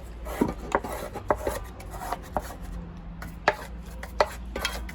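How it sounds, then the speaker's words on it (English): A dry brush scrapes dusty, dried crust from inside a Bosch Avantixx 8 tumble dryer in a series of short, close strokes with sharp ticks between them, and no one talks. "So with the dry brush, let's give that a scrape off."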